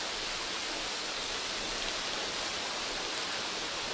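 Water running steadily down inside a neglected school classroom used for special-needs care, leaking near electrical wiring and outlets; a continuous, fairly loud broadband hiss like a small waterfall, with no voices heard.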